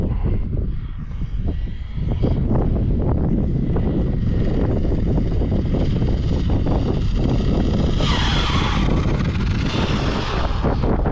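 A G14 Limitless car runs at full throttle with a loud, constant roar of engine and wind noise, close to the microphone, and a brief rising whoosh near the end, with no talk.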